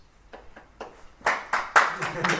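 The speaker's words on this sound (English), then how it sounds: "I'm glad the person who said science is actually clapping." A lone audience member claps at a talk, starting with a few light, sparse claps that grow into sharper, louder ones, roughly a dozen in all with an uneven rhythm.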